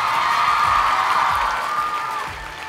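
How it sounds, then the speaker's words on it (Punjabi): Loud applause with hoots and cheers from a school audience at Public Girls Senior Secondary School, honoring the school van drivers; dense steady clapping that gradually fades slightly toward the end. "ਸੋ ਇੱਕ ਵਾਰੀ ਜ਼ੋਰਦਾਰ ਹੂਟਿੰਗ ਐਂਡ ਕਲੈਪਿੰਗ ਇਹਨਾਂ ਸਾਰਿਆਂ ਲਈ"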